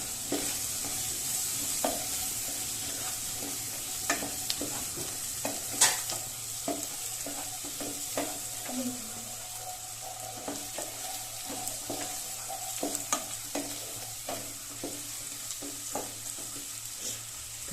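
Chopped capsicum and corn are stirred in a hot frying pan, giving a steady sizzle with a spatula scraping and tapping at irregular intervals.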